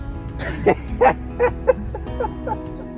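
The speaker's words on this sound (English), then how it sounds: "Listen to those birds. That's all you can hear." Several short, bright bird calls ring out one after another at a fairly steady pace, clear against a quiet outdoor background.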